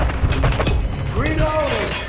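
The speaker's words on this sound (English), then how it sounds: "Reloading!" Weapon reload in a video game: a quick series of mechanical clicks and clacks over about two seconds, followed by a sliding, creaking metallic sweep, with voices and game sounds around it.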